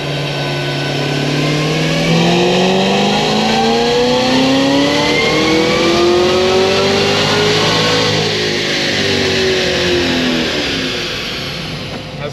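A Stage 4 Cadillac CTS-V's engine revs loudly up close, its pitch climbing and falling through a long sustained pull before settling back, with no voices.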